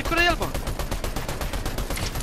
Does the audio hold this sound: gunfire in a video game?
yes